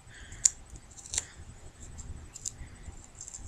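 Scissors snip through orange duct tape, cutting it into thirds for a tape lily craft: three or four crisp, separate close cuts spaced apart with quiet handling in between.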